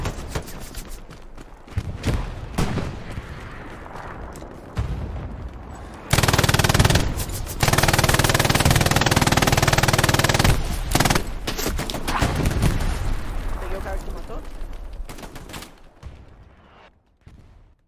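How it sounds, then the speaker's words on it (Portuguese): Tank cannon and small-arms gunfire in the World War II shooter game Hell Let Loose, with dense bursts of shots and a loud sustained stretch of heavy firing in the middle before it thins to scattered reports. "Nossa, tem um tanque atirando pra cá."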